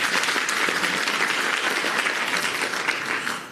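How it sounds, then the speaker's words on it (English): A crowd claps steadily and loudly for a performing artist, a dense continuous wash of hands without pause. "Can you give him the huge round of applause?"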